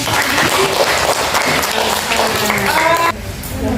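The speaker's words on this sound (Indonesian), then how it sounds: "tepuk tangan dulu buat" Students in a classroom clap together in a short, loud burst of applause that drops off abruptly near the end, with a voice faintly under it.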